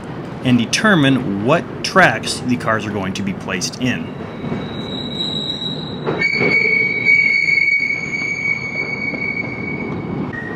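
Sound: rail yard hump retarder screeching as freight cars slow

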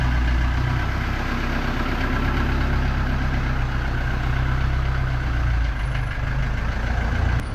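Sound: Volkswagen Kombi van engine idling

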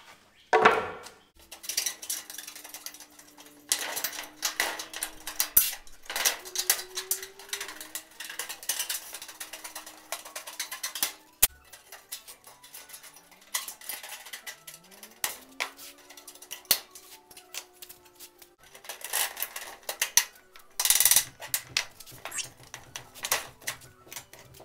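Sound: cutting metal roofing panel for standing seam roof

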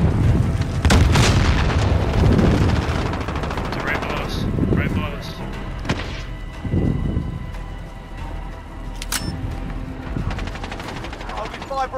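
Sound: charge explosion and gunfire in a video game (Warzone)

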